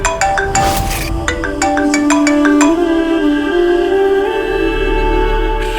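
A phone rings loudly and close, a bright electronic ringtone melody of repeated chiming notes that plays on continuously, alone without talk.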